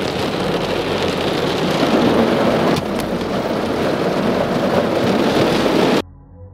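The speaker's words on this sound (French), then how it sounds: "J'attendrai que l'orage se calme un peu" Heavy rain pours steadily with a low rumble of thunder, loud and enveloping, then cuts off abruptly near the end.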